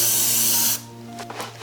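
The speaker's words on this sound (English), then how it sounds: "a lot of the time I spray without the cap on" Games Workshop paint sprayed from an aerosol can onto a 1/6 scale RC Panzer IV hull, a loud close broadband hiss lasting under a second before cutting off, leaving a low hum and faint clicks.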